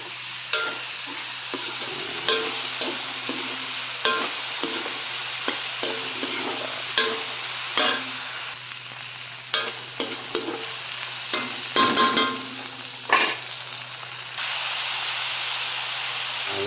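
Vegetables sautéing and being stirred in a frying pan for Filipino bulanglang, a steady close sizzle and hiss broken by repeated scraping stirs through the pan, with no talking.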